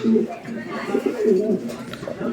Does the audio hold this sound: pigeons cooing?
yes